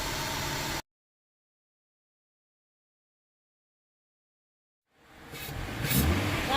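After a long silence, a car fitted with a K&N Series 69 Typhoon cold air intake is heard pulling away, its engine swelling in loudness over the final second or two.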